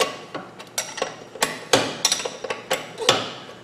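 A hammer strikes a punch during a long arm suspension install on a Jeep WJ, giving a run of sharp metallic taps at an irregular pace, close and moderately loud.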